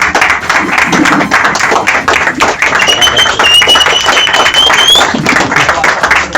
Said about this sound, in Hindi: प्लीज उनके लिए तालियां जोरदार होनी चाहिए।